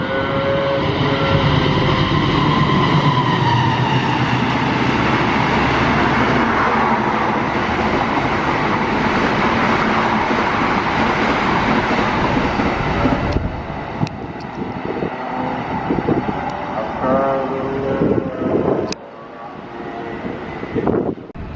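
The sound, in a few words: additional passenger train PCLPN 7040 arriving at station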